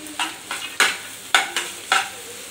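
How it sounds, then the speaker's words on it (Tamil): Onions and cashew nuts sauté in a pan for kadai paneer, a steady sizzle punctuated by about five crisp, rhythmic spatula scrapes close by, with no speech. "இப்போ ஆனியன் வந்து கொஞ்சம் வதங்கிடுச்சு. இந்த ஸ்டேஜில் வந்து நம்ம வந்து முந்திரி பருப்பு போட்டுக்கலாம்."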